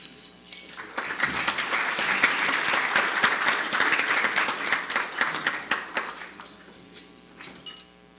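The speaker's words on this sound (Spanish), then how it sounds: "Recibámoslos con un aplauso." An audience applauds to welcome a speaker at a forum on integrated water resource management in the Cutzamala system basin; dense, steady clapping from a large crowd swells after the first second and holds, thinning toward the end.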